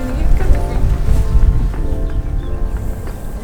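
Strong spring wind sweeping across a vineyard, a loud, steady low rumble that buffets the microphone throughout the few seconds.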